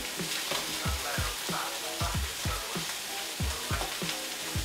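Ribeye steak sizzling hard in a hot pan, with a steady bed of frying hiss and regular dull thumps and scrapes roughly every half second as the meat is turned and moved, close and loud with no talk.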